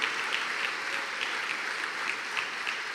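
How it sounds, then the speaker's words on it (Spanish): A church congregation at a Spanish-language worship service claps steadily and loudly, a dense, even applause filling the room with no talk above it. "Démosle ofrenda de palmas a nuestro Dios, hermanos"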